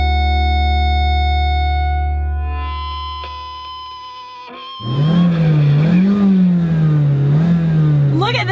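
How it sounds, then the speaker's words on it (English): Engine of a 2016 Mazda CX-3 compact crossover climbing steeply in pitch as it revs toward the redline, loud and close, after a stretch of lower electronic-sounding hum. "it lets me rev all the way to almost the red line"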